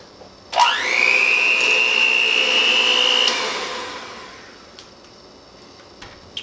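An electric mixer or blender whirring up to speed while mixing homemade eggnog ingredients, a loud rising whine that holds steady for about three seconds and then winds down, followed by faint knocks.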